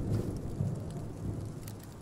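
Steady rain falls in the horror video game In Silence, a dense, continuous hiss with a low rumbling undertone, loud and even throughout with no voices.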